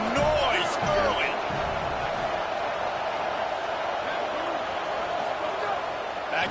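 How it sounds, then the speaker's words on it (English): A college football crowd at a USC game roars in a loud, steady wash of cheering and noise that carries through the whole stretch, with a few sharper shouts near the start. "This crowd bringing the energy and noise early"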